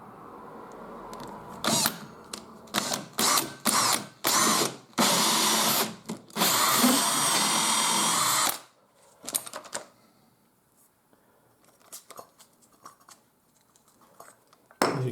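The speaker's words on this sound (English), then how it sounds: "Just drill the second hole." A power drill boring a hole through thin 9mm plywood behind a wall for an electrical back box, heard as a run of loud, close, short bursts and one longer sustained whir, followed by quieter handling noises.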